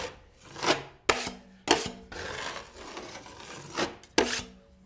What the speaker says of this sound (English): I'll do another coat of mud right over this